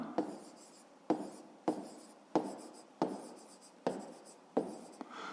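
Someone writes out a fifth-grade math answer with a pen on paper, seven distinct scratchy strokes in a steady rhythm, close and quiet, with no talking.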